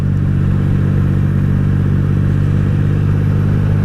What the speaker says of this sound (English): Couple of motorbikes there.